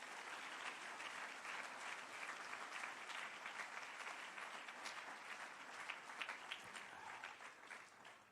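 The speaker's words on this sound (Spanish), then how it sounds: "Dele un fuerte aplauso al Señor" A church congregation applauding the Lord fills the room with dense, even clapping from many hands, loud and continuous without speech.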